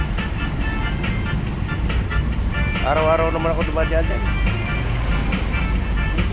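Busy road traffic on a Philippine street, a constant low engine rumble from cars and buses with a short horn toot midway, heard under someone talking.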